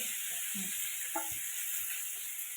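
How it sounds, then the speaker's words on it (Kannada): Fish frying in a pan, a steady bright sizzle and hiss that holds evenly throughout, with faint clinks of handling and no voices. "ಮತ್ತೆ ಪುನಃ 3 ತಗೊಂಡು ಪುನಃ ಫ್ರೈ ಮಾಡ್ತಾ ಇದ್ದೇವೆ"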